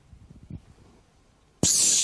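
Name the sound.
voice imitating a spray can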